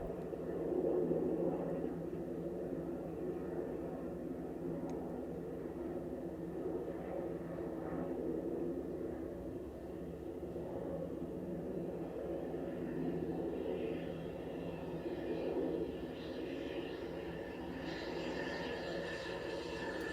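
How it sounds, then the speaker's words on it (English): A steady low engine drone of an airplane passing overhead, rumbling continuously at moderate distance with faint background noise. "Okay, that's a plane, obviously."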